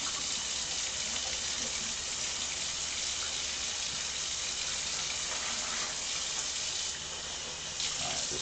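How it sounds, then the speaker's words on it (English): Tap water runs steadily into a sink as pork chops are rinsed under it, a continuous hissing wash heard up close without any talk. "Just give this a quick rinse here."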